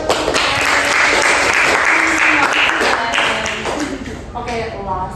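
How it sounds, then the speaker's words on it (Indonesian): An audience applauds in a sustained burst of dense clapping that tapers off near the end, as a voice starts speaking underneath. "Aplaus semuanya."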